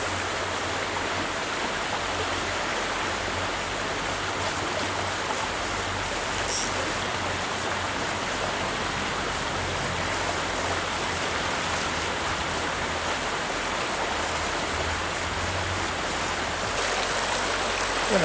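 A river rushes over rocks in heavy water at an urban trout stream, a steady broadband roar that stays even and close for the whole stretch.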